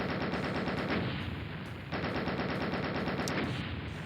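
Rapid, continuous gunfire from a shotgun in Doom Eternal, blasts overlapping into a dense barrage with a brief dip near the midpoint.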